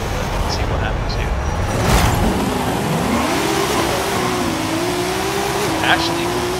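A Toyota Supra with launch control and anti-lag launching in a Forza Horizon 5 drag race: a steady engine drone rising in pitch as it accelerates, with brief crackles, under a loud commentator's voice.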